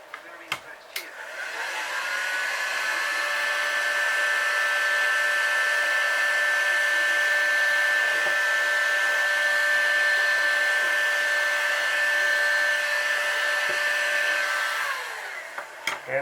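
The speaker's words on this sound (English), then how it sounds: "I've got my heat gun, and I'm just going to shrink this tubing." A heat gun shrinking heat shrink tubing during reassembly of a Saito 45S model engine, blowing as a steady, close, loud whoosh with a faint whine for about thirteen seconds, clicking on and off at either end.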